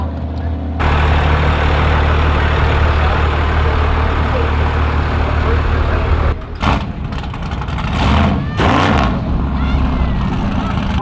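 A 2,000 horsepower diesel tractor-pull engine roars steadily at close range, a heavy sustained drone with a couple of brief gaps and surges near the end.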